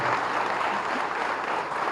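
Steady, dense clapping from a crowd at a conference closing ceremony in Hyderabad, even and sustained throughout with no pauses.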